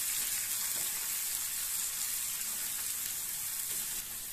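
Chopped large onion goes into hot oil with fennel seeds, frying with a steady, close, broadband sizzle that holds unbroken for a few seconds without any talk.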